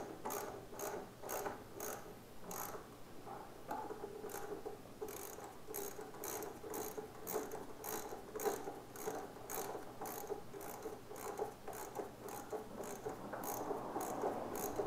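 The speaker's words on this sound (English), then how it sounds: "then I finish off with the torque wrench" Torque wrench tightening 14 mm front wheel bolts on a 2014 Honda VFR800F, a long run of quick ratcheting clicks in uneven bursts, fairly close but quiet, with no talking.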